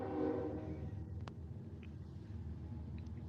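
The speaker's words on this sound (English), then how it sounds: "You guys are going to get to hear the train." A train passes in the distance, heard as a faint low rumble with a brief horn-like tone at the start, under quiet outdoor ambience and no talking.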